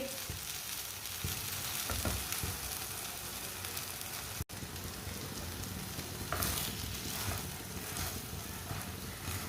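Radish paratha sizzles steadily in hot oil on a pan, a loud continuous frying hiss that runs unbroken apart from one brief dropout.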